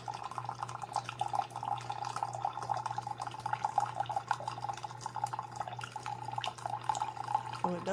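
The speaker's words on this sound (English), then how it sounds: "And it's going to brew us some coffee." A CHULUX slim single-serve coffee maker brews into a cup, with a steady trickle and dripping of liquid over a constant low machine hum, close and moderately loud, with no talking.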